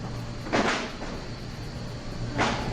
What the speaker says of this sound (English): First, it starts with these strange noises, almost like someone is trying to kick their way out